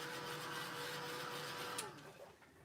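A heat tool drying a watercolor card, a steady whirring blower hum that runs evenly and then cuts off near the end, followed by a few faint handling sounds.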